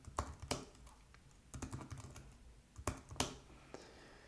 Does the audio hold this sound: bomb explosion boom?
no